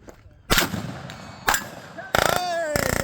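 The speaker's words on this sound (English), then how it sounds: "Back trigger fully set. Going full fire." Shots from a gun fitted with a binary trigger at an outdoor shooting range: several loud sharp cracks, then a rapid burst of paired reports, with a voice briefly heard between them.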